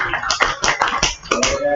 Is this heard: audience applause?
yes